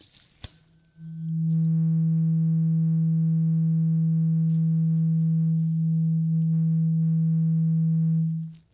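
A steady, loud low-pitched hearing test tone with harmonics sounds alone for about seven seconds after a brief click, then stops.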